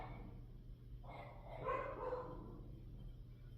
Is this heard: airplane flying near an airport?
no